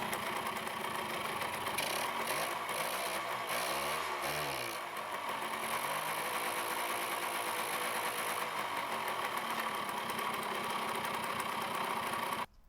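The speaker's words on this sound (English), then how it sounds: "it felt so good when the bike started up, literally first kick" A 1976 Kawasaki KM100 motorcycle engine, brought back from neglect, fires on its first kick and keeps running with a steady, slightly knocking idle close by. A brief revving swell comes early before it settles and then cuts off abruptly.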